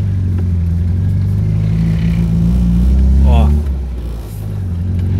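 A VW Gol Quadrado engine stumbles and hesitates during a gear change, a loud close rumble that surges then dips, with people talking over it.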